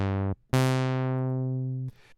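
Single-oscillator synth tone from the Zebra plugin, a bright buzzy note that cuts off, then a second sustained note fading slowly before stopping, clean and alone.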